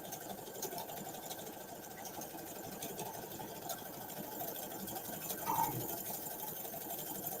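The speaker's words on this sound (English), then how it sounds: "I'm gonna do a few stitches in reverse." A sewing machine runs steadily while stitching in reverse on a Dollar Tree DIY craft project. It makes a continuous, even whir with a slight swell near the end, and no one talks.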